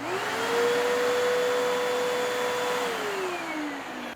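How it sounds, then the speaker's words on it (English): A 12 amp vacuum cleaner runs steadily off a Pecron F3000 power station inverter, its motor whine holding a constant pitch before winding down slightly near the end, loud and close with no talk. "So now we'll try the 12 amp vacuum."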